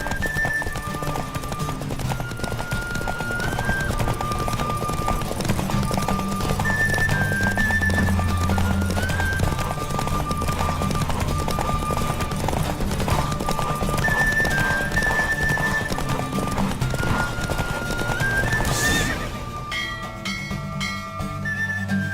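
A horse gallops in a race in the video game The Witcher 3, with steady rapid hoofbeats throughout, a brief snort or whinny near the end, and game music and ambience underneath.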